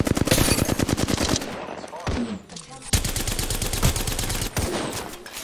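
Automatic gunfire rattles loudly in Apex Legends during a ranked match, with dense rapid bursts, a brief lull and then renewed sustained fire, close and forceful.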